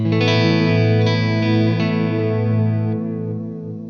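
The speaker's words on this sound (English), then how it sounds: "So it's kind of set up on a modulated delay." A sustained guitar chord rings out, shimmering and slightly wavering with a modulated delay, slowly fading over a few seconds with no talking.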